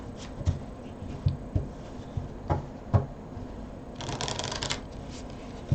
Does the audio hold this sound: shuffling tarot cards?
yes